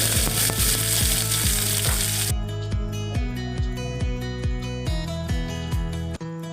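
Sliced onions sizzle in hot coconut oil with whole spices and mustard seeds, frying loudly and close up, with a regular clacking of a spoon stirring the pan all the way through.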